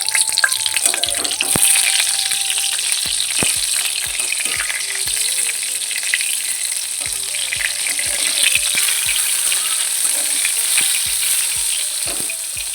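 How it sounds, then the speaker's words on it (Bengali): Eggplant fries in a pan in a home kitchen with a loud, steady sizzle, broken by occasional stirring knocks and clinks throughout. "এদিকে বেগুন ভাজা বসিয়ে দিয়েছি।"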